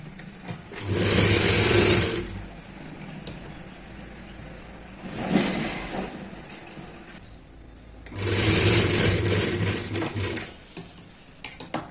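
A sewing machine edge-stitches a blouse in two loud bursts of fast stitching separated by a quieter pause with a brief softer run and some handling clatter.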